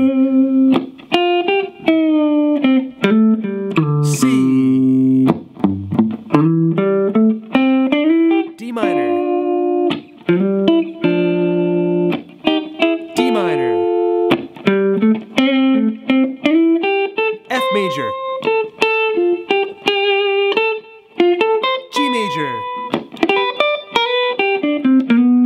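Memphis soul-style electric guitar solo played over a backing track's full chord progression, with melodic licks, bends and slides running continuously for about 25 seconds, loud and up front with no talking.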